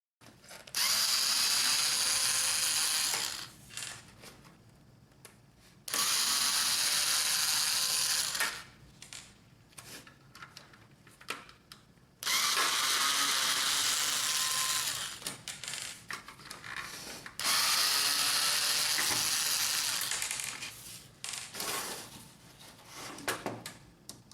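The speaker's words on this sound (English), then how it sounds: "Remove the other 5 screws on the other side of the unit." Screws being driven out of a Brother HL-9310 drum unit with a power driver, in four loud bursts of whirring, each a few seconds long, separated by quieter clicks and rattles of handling.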